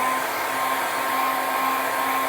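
Heat gun blowing hot air to set the paint on a custom glide bait fishing lure, a loud, steady whooshing roar with a constant motor whine, alone with no talking.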